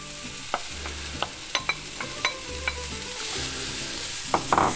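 Ground meat sizzles steadily in a pan while a utensil taps and scrapes now and then, close up, with no talking.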